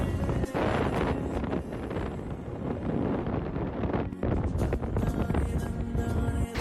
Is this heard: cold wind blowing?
yes